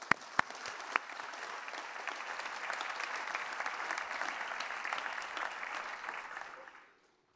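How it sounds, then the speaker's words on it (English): Audience applause fills a graduation ceremony hall, a few sharp early claps swelling into steady, dense clapping from a large crowd that holds for several seconds before tapering off to silence. "a big round of applause for all of those individuals who have supported each and every one of us through our journeys"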